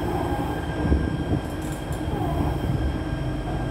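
A Jakarta MRT subway train pulls into Blok M station, with a steady rumbling roll of wheels on rails and faint high squeals.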